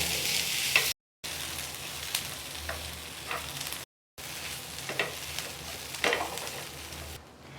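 Steady sizzling of onion and potato frying in a pan, with occasional scraping stir strokes, close and continuous apart from two short gaps.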